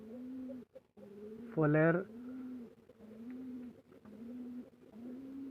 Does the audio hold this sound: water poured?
no